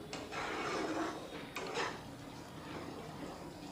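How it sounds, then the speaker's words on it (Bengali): A spoon scrapes and stirs spice masala frying in a pan for katla kalia, a fish curry. The rasping strokes are clattery and continuous, with a couple of sharper knocks against the pan. "এইবারে মশলাটাকে আমরা সুন্দর করে একটু কষিয়ে নেব"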